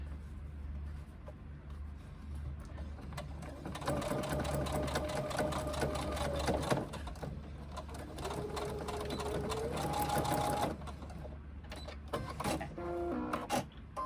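A sewing machine stitches a pocket onto a fabric sling bag, a close, steady mechanical whir with a few changes in pitch and speed before stopping into short clicks.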